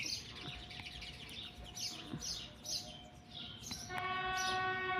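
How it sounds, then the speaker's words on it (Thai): A train rumbles past at a distance while birds chirp and tweet nearby, with a steady tonal hum swelling near the end. "เสียงรถไฟมาแล้ว"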